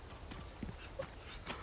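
A dog in Resident Evil 4 (2023) makes a few soft, brief whimpering yelps scattered over a quiet game background, with faint tapping sounds in between and no talking.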